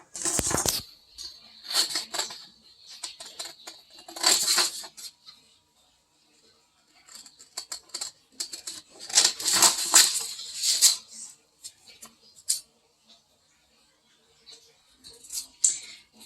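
Scissors snip through paper while cutting out a mask piece, giving bursts of crisp cutting and rustling separated by quiet pauses.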